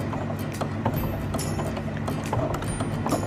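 A sewing machine stitches a pocket seam, running in a steady, close mechanical whir with rapid clicking needle strokes throughout.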